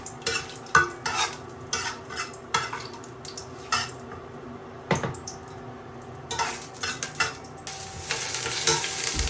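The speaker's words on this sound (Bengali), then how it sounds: "একটু সামান্য তেল দিয়ে দিলাম, আর এলাচি, দারচিনি, তেজপাতা।" Cardamom, cinnamon and bay leaves sizzle in a little oil and ghee in a pan, with a steady frying hiss under repeated stirring scrapes and utensil clinks, close up with no talk.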